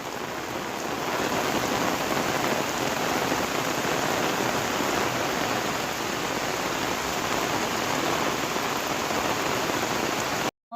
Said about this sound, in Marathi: आणि पावसाचा जोर परत वाढला आहे